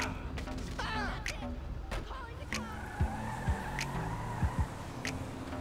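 A street car in the GTA 5 video game drives with a low engine hum and brief tire squeals, punctuated by a few soft thumps, fairly quiet, with someone talking occasionally.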